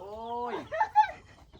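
A chicken lets out a drawn-out, wavering call followed by a couple of short, abrupt clucks, close by in an otherwise quiet rural setting.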